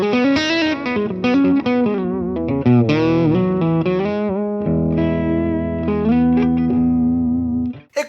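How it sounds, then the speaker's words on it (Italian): Distorted electric guitar playing a busy riff through a guitar cabinet, recorded with a Shure microphone placed on the cab; dense, loud and continuous chords and notes with no talking. "Questo che ascoltate è il suono ripreso con un microfono Shure sul mio cabinet"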